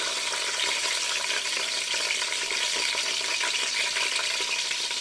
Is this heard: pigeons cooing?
no